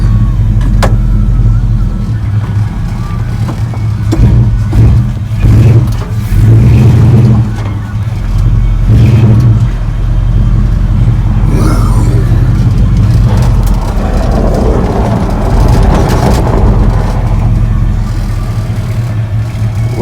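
A 1970 Chevy C-10 pickup truck drives down the road with a suspected fault, its engine giving a loud, steady low rumble with road and wind noise throughout and slight swells in revving, close to the listener.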